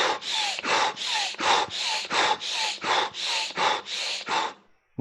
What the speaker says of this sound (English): Bhastrika is breathing like this.